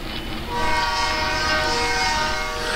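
Locomotive units cross Ulster Avenue heading for the engine house near Williams Yard, sounding a loud, sustained horn chord over a steady rumble and faint wheel clatter, with no voices.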